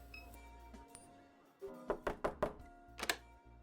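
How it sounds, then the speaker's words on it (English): A secret knock on a door in the video game Norco: four quick solid knocks in a row, a short pause, then two more, fairly quiet and close, over a faint ambient hum. "knocks on the door and hears the subtle sound of it unlocking"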